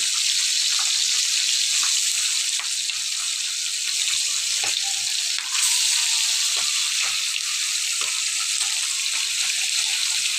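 Fish frying in a small amount of oil in a pan, giving a steady, bright hiss and sizzle that holds evenly throughout, with faint occasional pops and no talk.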